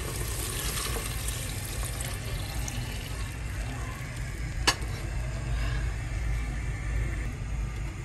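Three cups of water poured into a pot for a clam and spinach soup, a steady splashing and trickling wash that runs throughout with one brief clink partway through.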